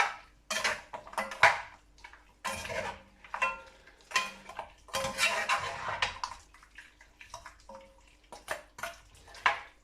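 Mixed broccoli and cauliflower stirred into a home cooking dish, with clanking and scraping of a utensil against the pot in uneven bursts, fairly close and fairly quiet, with no talk.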